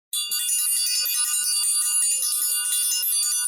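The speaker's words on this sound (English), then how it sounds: "we're ringing the bell for that" A bright, ringing bell tone starts suddenly and sustains with a shimmering, repeated high chime, loud and clear from start to finish without speech.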